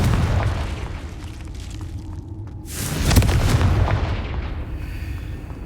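A Confringo explosive spell in the game Hogwarts Legacy goes off as a loud, booming blast with a bright burst and rumbling tail, over steady dense game ambience and no talk.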